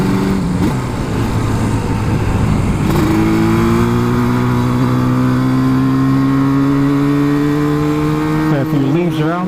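A Yamaha RD350LC motorcycle engine revs up loudly and holds a steady, high whine while riding on damp roads, close and dominant, with a brief gear change near the end.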